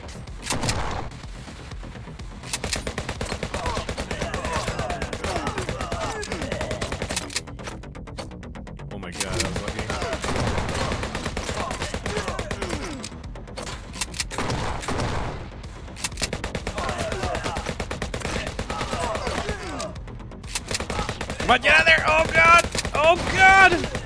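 Rapid machine gun fire in the video game HyperParasite, a continuous rattling stream of shots broken by brief pauses, loud and close, mixed with game effects and a voice talking over it.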